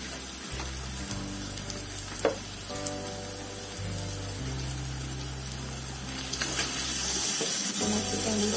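Chicken pieces fry in a pan for a rustic Bihar-style chicken curry, giving a continuous close sizzling hiss over a low steady hum that swells louder toward the end, with no talking.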